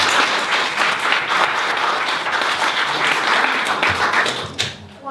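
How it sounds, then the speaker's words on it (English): An audience at a church community event applauds a co-host, a loud, dense burst of many hands clapping that holds steady for several seconds and then fades out. "So let's give her a big round of applause."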